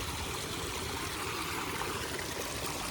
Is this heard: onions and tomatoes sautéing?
no